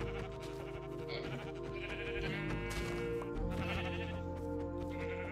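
Sheep bleat in a video game, several wavering cries rising over a dense, steady bed of game music and ambience, fairly close and clear.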